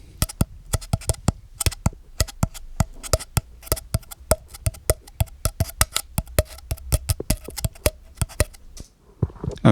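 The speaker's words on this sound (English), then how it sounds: "a tube from the center of a paper towel" Hollow, resonant taps on a cardboard paper towel tube played as a percussion instrument, a close, fast and steady rhythmic pattern of sharp hits that runs for several seconds with no talk.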